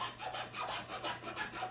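A chainsaw file rasps string grooves into the tip of an Osage orange self bow, a steady back-and-forth scraping of metal on hard wood in even, repeated strokes, fairly close and with no talking.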